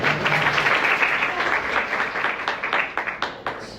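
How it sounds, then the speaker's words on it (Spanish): Audience applause breaks out in a lecture hall during a university pharmacology class on respiratory drugs, a dense wash of many hands clapping steadily before thinning into scattered claps near the end. "Y el aplauso."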